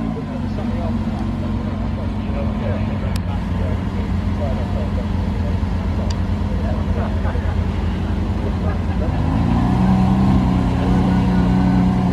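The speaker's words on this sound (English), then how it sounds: "Lamborghini SVJ is leaving." A Lamborghini SVJ supercar pulls away at a supercar weekend event, a loud continuous engine drone that swells near the end, with voices and crowd noise around it.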